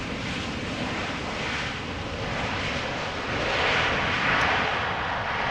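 An airliner arriving from Bergen at Amsterdam Schiphol uses its thrust reverser, a steady broadband roar that swells slightly toward the end, heard from a distance with some wind noise.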